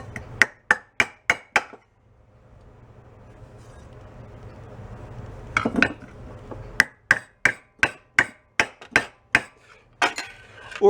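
A hammer strikes the engine of a cheap garage-sale pressure washer in a fast burst of sharp metallic taps, then a quieter pause, then another rapid run of close, regular blows.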